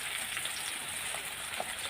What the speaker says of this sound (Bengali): দেখো জল দিয়ে দিচ্ছি,